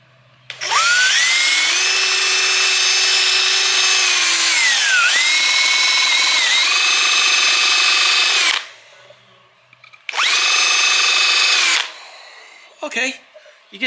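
A power drill bores into wood while building a custom side table: a loud, sustained whine that dips in pitch as the bit loads up, then stops before a second shorter burst.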